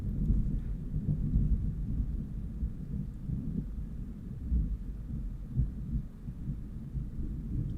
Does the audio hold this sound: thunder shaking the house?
yes